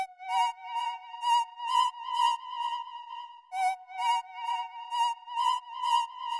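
A dry synth lead in FL Studio with no effects plays a choppy, rhythmic melodic line of bright buzzy notes. The stabs are clearly separated, with no voices.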